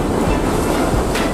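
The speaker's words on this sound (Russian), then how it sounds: "Как бы вагоны есть, но они как-то движутся" Train wagons rolling in a video game give off a continuous, dense rumble and clatter with faint rail screech, loud and steady throughout with no talk.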